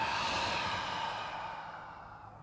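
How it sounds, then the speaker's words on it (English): A long open-mouthed exhale during yoga breathing, a breathy rush of air that starts strong and slowly fades as the breath empties, close and unaccompanied. "Open the mouth, exhale."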